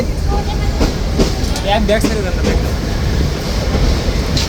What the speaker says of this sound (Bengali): ট্রেনটি প্রবেশ করছে বিভাগীয় রেলওয়ে স্টেশন রংপুরে